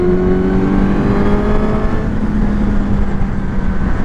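A Suzuki GSX-S 1000 motorcycle engine runs steadily in fifth gear at just under 5000 rpm, a loud, close, continuous droning whine with a faint shift in pitch and no speech.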